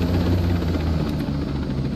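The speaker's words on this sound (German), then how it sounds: "So, jetzt haben wir zwei Hubschrauber." A helicopter in the video game Ghost Recon Breakpoint flies nearby, its rotor drone loud, steady and continuous, with no talking over it.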